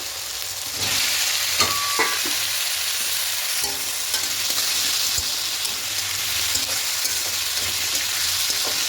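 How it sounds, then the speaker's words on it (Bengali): Cut potatoes frying in a pan of oil after onion and tomato, for a potato and catla fish curry, a steady close sizzle with occasional scraping stirs throughout and no talking. "এবার আলুগুলো দিয়ে একটু হালকা করে ভেজে নেব।"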